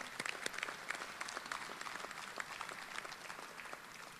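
Audience applause at a trophy dinner, a dense, steady roomful of clapping hands that holds at an even level throughout and tapers slightly toward the end, heard from a moderate distance.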